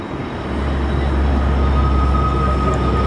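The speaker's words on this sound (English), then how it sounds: "So we'll watch the train come through the top." A steady low rumble of a train moving through a spiral tunnel in Yoho National Park, filling the whole stretch with a continuous heavy roar and faint high whine.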